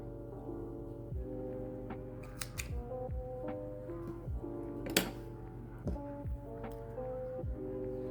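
Scissors snipping crochet yarn, a few short crisp cuts and clicks up close over a steady low hum of background tones.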